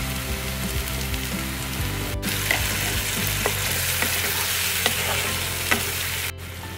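Tomato paste sizzles loudly in a pan for Mumbai street-style pav bhaji, with a continuous crackling fry. Scattered spoon clinks and stirring scrapes sound close under the sizzle, and no one speaks.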